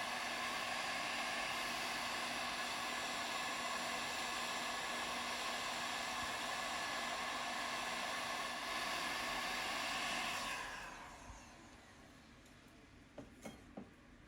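A loud, steady blower roars continuously for about ten seconds, drying a wild clay pot on a pottery wheel, then cuts off, leaving a few faint clinks.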